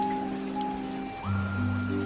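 Steady rain falls over an alien landscape of glowing flora, a soft, continuous hiss spread evenly beneath sustained droning tones that hold and shift partway through.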